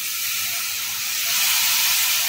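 Water is poured into semolina toasting in a hot pan, setting off a loud, steady steam hiss and sizzle that swells slightly toward the end, with no talking.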